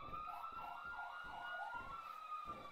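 A police siren from the video game GTA wails steadily in a rising and falling pattern, loud and continuous with no talking over it.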